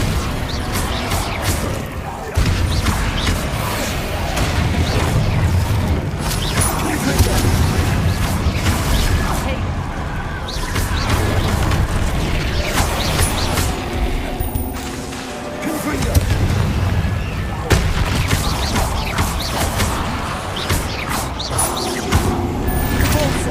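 Fire spell blasts in Hogwarts Legacy burst in a long chaotic fight, loud booms and crashing debris layered over mechanical clatter and music, with brief pauses and a voice speaking at times.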